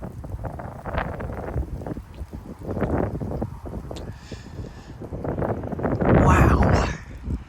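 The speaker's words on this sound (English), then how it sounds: "these winds are really kicking. Oh, here comes a gust" Strong night wind gusts roar through live oaks in Frisco, Texas, a rushing, buffeting noise that rises and falls in waves and swells loudest near the end, with a person talking over it.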